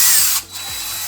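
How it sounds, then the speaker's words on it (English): A power drill with a 1/8 bit opens up the end of a brake line on a BMW X5 E53, a steady high whine, briefly dropping in the middle before resuming, close and alone. "I'm just going to use, I think it's a 1/8 drill bit to just"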